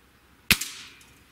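A Hatsan Mod 65 air rifle fires once off a bipod: one sharp, close crack with a short ringing tail, then a faint tick at the very end.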